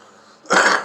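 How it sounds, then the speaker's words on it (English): A single short, harsh cough bursts out close by, a rough throat-clearing sound after a moment of quiet. "I'm really trying hard not to cough."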